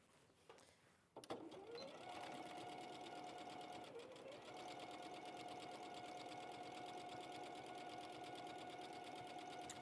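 A sewing machine starts up after a couple of soft clicks and then stitches steadily with a fast, even whir that runs on for several seconds, fairly close.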